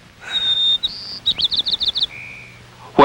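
A forest bird calling alone and close: a few clear whistled notes, then a rapid string of short chirps and a final held whistle, with a brief rustle at the end.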